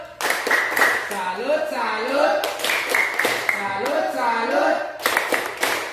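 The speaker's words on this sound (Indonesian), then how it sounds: "kita tepuk salut dulu karena semua sudah menjawab dengan tepat" A group of children in a classroom perform a rhythmic salute clap, with several quick bursts of clapping in a patterned beat while young voices chant along.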